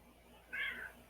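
A pet cat named Shadow gives a single clear meow, close and moderately loud, rising over a quiet room after a short pause.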